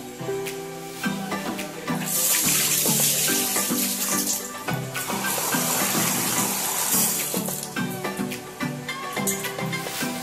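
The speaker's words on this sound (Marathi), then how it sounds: "छान असे धुवून घ्यायचे 2 पाण्यात" Bitter gourds washed by hand under running water in a sink, with a continuous close gush of water broken by splashing and handling sounds, growing louder partway through; no speech.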